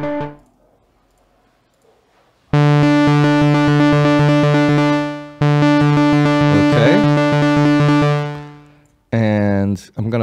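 Air synth set to its default patch, two long held notes with bright, buzzy harmonics, each cut off and fading, then a short third note at the end; quiet before the first note.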